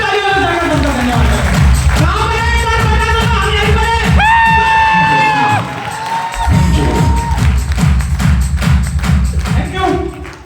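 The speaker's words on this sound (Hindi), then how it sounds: "एक बार जोरदार तालियों से धन्यवाद" A crowd at a team meeting breaks into loud rhythmic clapping and cheering, with shouts and whoops over the steady beat of the hands throughout.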